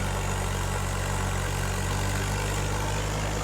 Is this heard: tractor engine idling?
yes